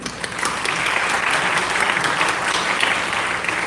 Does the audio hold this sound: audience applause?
yes